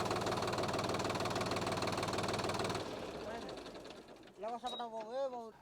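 A Solis 50 HP 4x4 tractor engine runs loud and close with a rhythmic, knocking chug, then drops to a quieter hum before a person starts talking over it.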